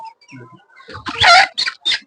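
Native country chickens cluck on a poultry farm: soft, scattered calls at first, then a louder cluster of clucks and squawks in short bursts near the end, with no talk.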